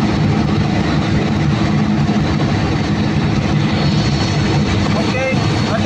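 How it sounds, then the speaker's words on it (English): A Caterpillar C15 generator engine, 500 kVA, runs steadily and loud with a dense broadband roar and an irritating noise caused by a fault, continuous throughout with no pauses. "when the engine is running, the problem is a very annoying sound from the engine"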